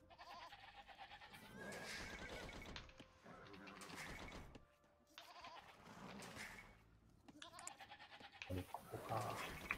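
Sheep bleating in the Age of Empires II real-time strategy game, short repeated bleats mixed with game effects and background music, moderately loud with brief pauses between calls.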